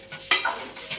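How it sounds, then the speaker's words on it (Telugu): Chicken curry with chilli powder being stirred in a pan, a single quick scrape of a spoon against metal amid a soft sizzle, brief and close. "ఇప్పుడు చికెన్ మొత్తాన్ని కలుపుకుందాము."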